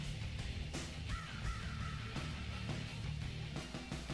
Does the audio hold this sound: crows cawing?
yes